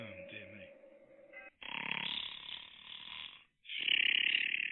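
A person imitates snoring with exaggerated voiced snorts and grunts in short bursts separated by brief pauses, close and fairly loud, during a casual darts podcast.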